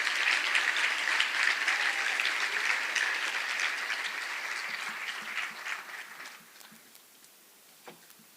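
An audience claps enthusiastically for a group of volunteer activists at an awards event, a dense round of applause that thins out and trails off into scattered claps.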